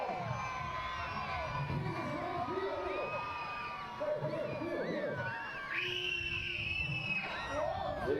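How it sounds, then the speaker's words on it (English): Spectators and children at a BMX race in Papendal, the Netherlands, cheering, whooping and shouting in a dense, continuous crowd roar, with high shrill kids' voices standing out. "They want to make as much noise as they can, get the kids excited."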